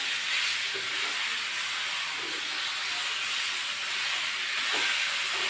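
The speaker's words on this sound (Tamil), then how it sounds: "நல்லா எண்ணெயில் வெங்காயம் பச்சை மிளகாயில் கொஞ்சம் நல்லா வதக்கிக்கலாம்" Onions and green chillies sauté in sesame oil for a village-style fry, producing a continuous, even hiss with faint soft knocks of stirring underneath.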